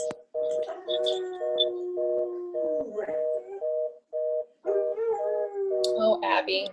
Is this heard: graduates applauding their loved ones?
no